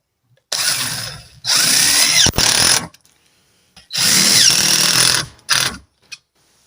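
A power drill drives screws into wood in several separate bursts, loud whining runs lasting a second or two each, with short silent gaps between them and a brief final blip.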